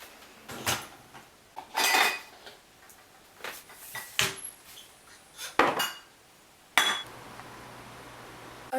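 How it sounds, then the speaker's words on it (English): Dishes being washed by hand at home, with pots and cutlery clinking and clattering in irregular bursts, close and fairly loud, with quiet gaps between clusters of clanks. "I get to put my full attention into the dishes"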